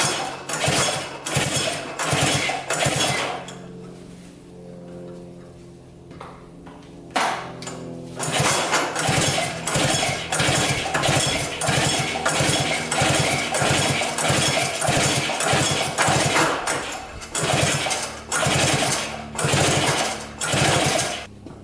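An abandoned three-wheeler's engine is pull-started over and over to clear fuel from the cylinder, making rapid chugging bursts of compression strokes in a loud rhythmic run. A short quiet gap near the middle breaks the pulls before they resume.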